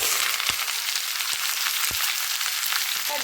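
Chopped winter vegetables hit hot tempering oil for palong shak, spinach cooked with vegetables and bori, and fry with a loud, steady sizzle broken by a few sharp clatters of a spoon against the pan.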